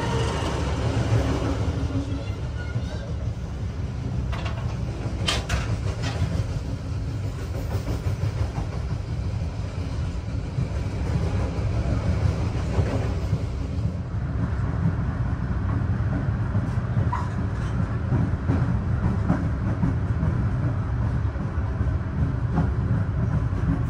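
Inside a business-class car of the Tegal Bahari passenger train, a steady low rumble of wheels and carriage fills the space, with faint rhythmic clatter continuing without a break.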